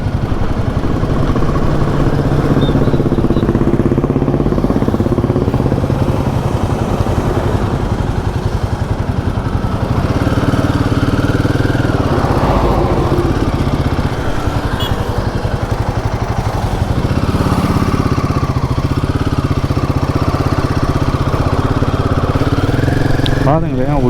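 A Royal Enfield Himalayan 450 motorcycle rides on the road from Munnar toward Coimbatore, its engine droning steadily and loudly close by with wind rush, a low mid-pitched hum that rises and falls slightly with throttle throughout.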